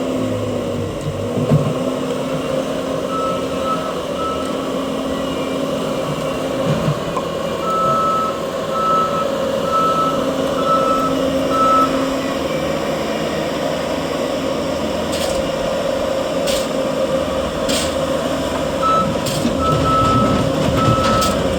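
Intermittent reversing beeps from a dump truck sound in evenly spaced runs over a steady engine and machinery rumble at a construction site, with no talking.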